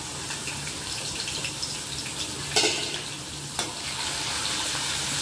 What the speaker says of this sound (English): Now I'm going to add this crushed garlic to this.